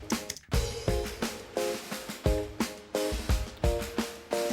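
Punchy drum loop with its low end filtered away, leaving thin, crisp kicks, snares and hats repeating in a tight groove, moderately loud and alone.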